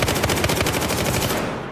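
Rapid, loud gunfire in the video game Battlefield 4 on PS4, a dense rattling string of shots close up with no talking.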